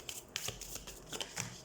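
Tarot cards are handled and one is drawn from the deck, a quick series of soft close-up card flicks and slides, faint and alone.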